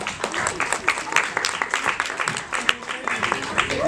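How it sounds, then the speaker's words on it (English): Audience applause at a Mumbai beauty pageant grand finale fashion show, a dense, continuous patter of many hands clapping in a large room, steady and fairly loud, with voices faintly mixed in underneath. "Can we have a huge round of applause for the guest here"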